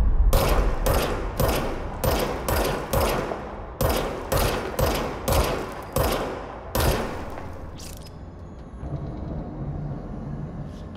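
Service weapon gunfire in the video game Control: a rapid volley of loud, sharp shots in regular bursts for about eight seconds, each burst a quick string of cracks, then a quieter rumbling tail.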